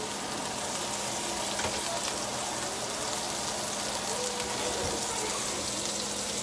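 Burger patties for bacon cheeseburgers fry in a hot pan with a steady, close, dense sizzle and crackle that runs unbroken throughout, with no voices.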